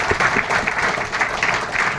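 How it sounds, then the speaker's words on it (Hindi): An audience at a direct selling business meeting claps hard for their upline, a short burst of dense, loud applause with a slightly pulsing rhythm. "अपलाइन को एक बार जोरदार ताली बजाया।"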